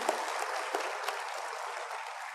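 A church congregation at a Full Gospel church service claps in a dense, steady round of applause that fills the hall and carries on without a break.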